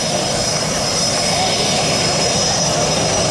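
P-51 Mustang aircraft flying at an airshow, a loud steady engine drone throughout with a commentator's voice over a public address system.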